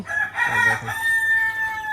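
A native rooster on a small Bengali farm crows loudly and close, with a long drawn-out call that holds a sustained tone before trailing off. Hens cluck faintly underneath.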